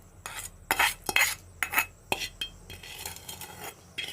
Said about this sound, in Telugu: ఈ తాలింపుని గోంగూర పచ్చట్లో వేసి కలుపుకుంటే అయిపోయినట్టేనండి